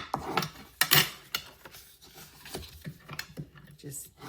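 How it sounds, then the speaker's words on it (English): Rubbing and scraping as score lines and tabs are burnished on a cardboard cookie box, irregular close strokes with a few sharper scuffs, under faint background. "I'm going to burnish those score lines well"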